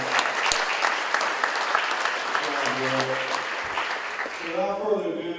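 An audience at a congressman's town hall meeting gives a round of applause, steady close clapping under a speaking voice, thinning as talk resumes at the end.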